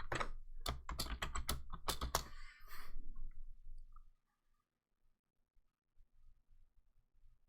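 Quick bursts of typing on a computer keyboard while logging in, rapid clicky keystrokes close by for a few seconds, then near silence with only faint soft taps.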